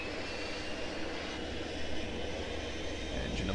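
Second engine of a Dash 8 turboprop coming up in a flight simulator, a dense continuous roar with a steady whine, loud and unbroken, with no talk.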